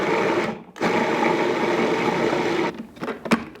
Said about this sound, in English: Let's give this a good mix.